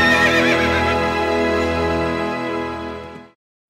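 A horse gives a long, loud whinny close by, the neigh rising and trailing off over about three seconds before cutting to silence.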